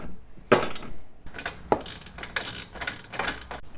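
Tools work on the grille brackets of a 5th gen 4Runner, a close run of sharp metallic clicks and ratcheting taps in uneven bursts with brief pauses between them.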